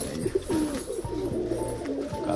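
Pigeons in a loft give soft, repeated throaty coos, close and steady, with low calls overlapping through the clip.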